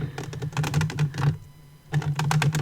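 Wooden colored pencils knock and rattle against each other in quick, irregular clicking bursts, close and fairly loud, with a short pause in the middle and a steady low hum underneath.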